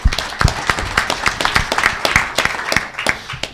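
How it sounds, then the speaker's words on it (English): An audience at a state treasurer candidate forum claps steadily for a few seconds, a dense run of many hands close by with no voices. "So let's give you all a round of applause."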